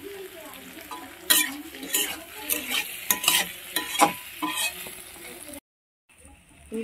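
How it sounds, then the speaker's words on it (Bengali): Mutton is stir-fried in a pan, a continuous sizzle overlaid with repeated scraping and knocking of a spoon against the pan, ending in a short quiet gap. "দেখো বন্ধুরা ভালোভাবে কষানো হচ্ছে। আর মটন মানে একটু ভালোভাবে কষতে হবে।"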